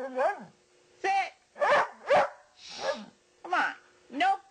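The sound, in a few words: dog barking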